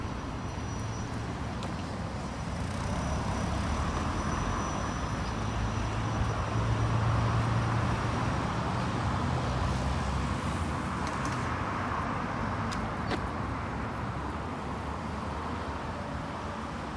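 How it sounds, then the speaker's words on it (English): Busy road traffic near Amersham on a walk toward Chalfont & Latimer, a dense, continuous roar of passing cars that stays steady throughout with no voices. "And this is the aforementioned traffic hell."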